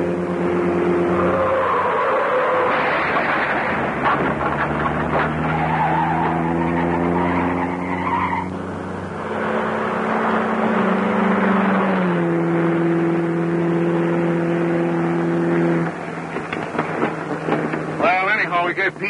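Car tires skid and an engine roars in a 1935 serial chase scene, with a sustained screeching whine over loud motor noise, shifting pitch throughout and a brief burst of rattling near the end, no speech.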